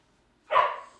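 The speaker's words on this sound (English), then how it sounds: "My dogs are going crazy." A single short bark from a house dog, either a husky or a Jack Russell boxer mix, sounds sharp and fairly close against a quiet room.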